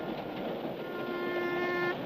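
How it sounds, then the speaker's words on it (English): A cartoon train runs along the tracks with a steady rumbling roll, and a faint whistle-like tone rises in the middle under continuous noise. "As the train zoomed along"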